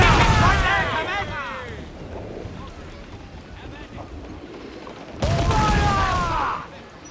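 Ship cannons boom in Assassin's Creed 4 Black Flag naval combat: two loud broadband volleys, one at the start and one near the end, over a steady rumble of sea and wind.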